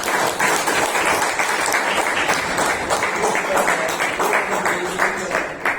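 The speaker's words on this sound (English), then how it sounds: "Give him a round of applause." A crowd at a Toastmasters meeting applauds steadily, a dense wash of clapping holding at a constant level for several seconds.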